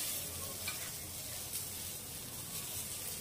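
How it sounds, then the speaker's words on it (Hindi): Puffed rice and paneer tikki coated in batter fries quietly in hot oil on a low to medium flame, giving a soft, even sizzle with no breaks. "अब उसमें हम इस तरह से बैटर लेंगे और इस तरह से फैला देंगे और इसके ऊपर इस तरह से टिकिया रखकर"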